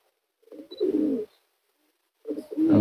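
Pigeons in a loft give two close, low cooing calls separated by a short silence, soft and throaty with no talk over them.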